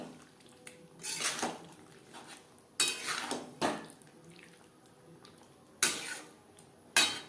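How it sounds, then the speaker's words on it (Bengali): Boiled potatoes and young jackfruit are stirred with spices in a pan, with repeated scraping and clattering strokes of a utensil against the metal coming in irregular bursts, close and fairly quiet, without talking. "বেশ ভালো করে মিক্সড করে দেব।"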